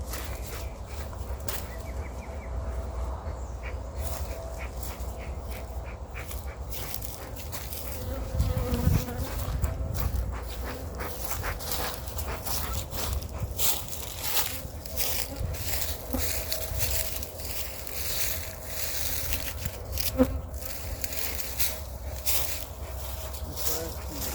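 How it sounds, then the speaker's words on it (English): Many bees buzz in a dense, continuous hum close by at a hive, with scattered louder passes and faint handling noises. "A lot of bees, not a lot of activity"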